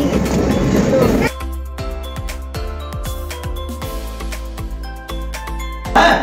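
A train runs on rails near a fair ground in Madhyamgram and Nimta, giving a steady, close, rhythmic clatter with ringing metallic tones, and voices are heard at the start and end.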